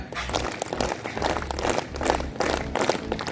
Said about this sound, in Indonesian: Ya, tepuk tangan 7 kali.